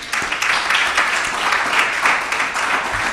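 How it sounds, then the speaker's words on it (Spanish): A church congregation applauds during a sermon, steady dense clapping filling the room at moderate loudness from start to finish, with no voices on top. "Dale otro aplauso, Señor."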